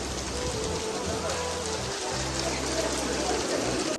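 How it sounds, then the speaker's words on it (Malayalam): Dense, steady rain pattering on a surface, close and continuous, with a low rumble underneath and no clear voices. "നല്ല മഴ കേട്ടോ"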